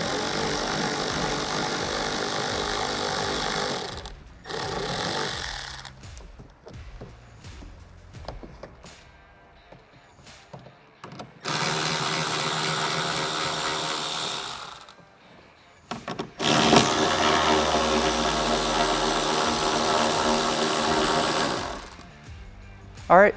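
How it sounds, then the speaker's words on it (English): A power driver removing 7mm screws and a 10mm nut from the fender liner of a C8 Corvette, several buzzing whirring bursts separated by quiet pauses, close up. "from the fender liner side here, we are going to remove these two 7mm screws and this 10mm nut"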